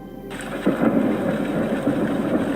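A fierce summer thunderstorm over southern England gives a long, steady rumble of thunder with rain noise, loud and continuous, with no speech.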